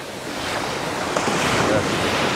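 Moderately rough sea surf washing onto the beach at Vityazevo near Anapa, a loud, continuous wash of breaking waves mixed with gusty wind buffeting the microphone.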